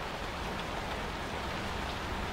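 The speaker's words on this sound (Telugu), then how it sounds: "వర్షం ఆగేటట్టు కనిపించట్లేదు" Steady, heavy rain falls in an unbroken wash of noise outdoors at a party, with no voices over it.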